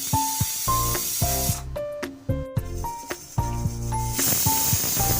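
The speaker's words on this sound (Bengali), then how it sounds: "এবার আমি প্রেসার কুকারের মধ্যে 2টো সিটি দিয়ে নেব।" A pressure cooker cooking vegetables for pav bhaji, releasing a loud, sustained hiss of escaping steam at close range, with tonal clatter from the kitchen underneath.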